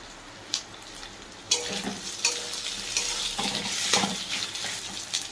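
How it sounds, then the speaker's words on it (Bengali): Ginger frying in a pan over a gas flame for dhoka dalna, a steady close sizzle with a few sharp stirring scrapes and clinks, growing busier toward the end, with no talking. "এটা একটু ভালো করে আদাটা ভাজা ভাজা হয়ে যায়"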